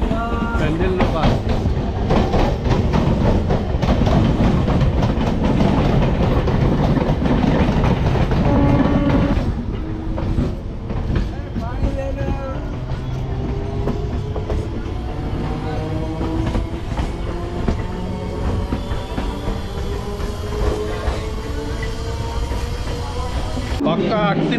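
Balurghat Express passenger train running on rails, a loud continuous rumble with rhythmic clickety-clack of wheels and a faint squeal, steady throughout; people talk over the noise in the first part.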